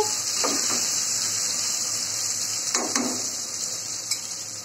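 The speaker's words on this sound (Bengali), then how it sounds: "তেল গরম করে নিয়েছি, দিয়ে দিচ্ছি পেঁয়াজ কুচি। হালকা একটু ভেজে নিয়েছি।" Chopped onions frying in hot oil inside a pressure cooker for homemade biryani, giving a steady, close sizzling hiss throughout with a few light clinks of utensils against the pot.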